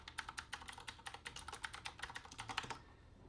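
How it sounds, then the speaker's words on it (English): Keys are pressed on a computer keyboard in a quick, steady run of about two dozen soft clicks, close and alone, ending abruptly. "every time that I press a key on the keyboard, watch what happens"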